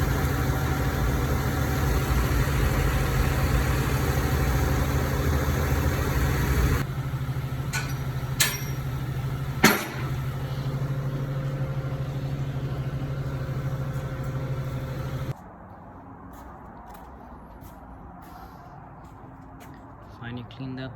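A tow truck hauling a Barudan embroidery machine from Long Beach to Santa Maria, California runs with a steady droning engine hum. Partway through there is a brief clunk, and the engine noise drops to a quieter idle near the end.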